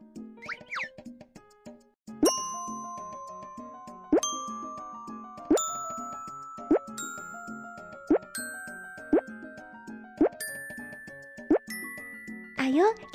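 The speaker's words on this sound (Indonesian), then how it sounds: "Ketuk di sini dan dengarkan suara botol-botol ini." Bottles hanging on strings tapped in a BabyBus children's game, a series of bright pitched plonks with ringing tones, evenly spaced about every two seconds, each note higher, with a cartoon bounce at the end.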